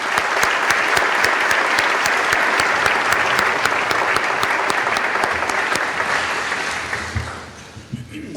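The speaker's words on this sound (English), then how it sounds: "Audience, please join me in a round of applause for our faculty." Sustained, dense applause from an audience at a dental school white coat ceremony honoring the faculty, steady and loud for about seven seconds before tapering off into scattered claps at the end.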